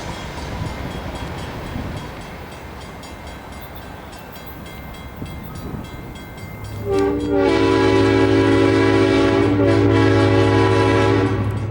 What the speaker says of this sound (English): A pair of Kodachrome C30-7s lead a westbound through Antioch.